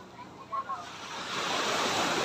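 Sea waves wash in beside beach cottages at Morning Breeze Resort in Sariaya, Quezon, a steady broadband surf that builds and fills the last second, with a couple of brief voice-like sounds near the start.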